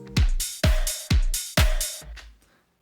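A programmed drum loop built in Ableton plays alone, with punchy kicks, snares and a clap under steady open and closed hi-hats, running several even beats before stopping.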